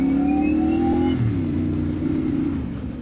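CFMOTO 450SS motorcycle engine heard while riding, a loud, close, continuous drone whose pitch rises and then falls as it shifts, over heavy wind rush, with no speech.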